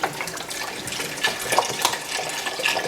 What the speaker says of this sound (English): Look at my Tamara just doing a great job of pouring this broth in there.